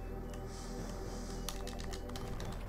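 Computer keyboard keys clatter during a Metroid Zero Mission speedrun, a steady patter of quick, light clicks with a denser burst of sharper taps in the second half, close and fairly quiet over a constant hum.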